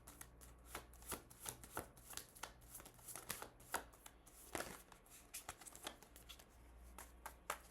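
Tarot cards being shuffled by hand, a quick series of crisp riffling snaps and soft slaps in an uneven rhythm, close and fairly quiet, with no voices.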